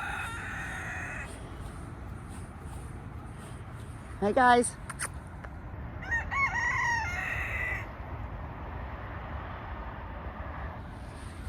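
A rooster crows twice on a small hobby farm, the calls ringing out a few seconds apart over steady outdoor background noise, with a faint cluck of chickens and a brief spoken greeting nearby.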